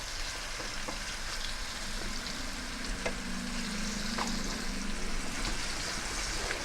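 Chicken meat fries in a non-stick pan, giving a steady, close crackling sizzle with light popping throughout and no talking.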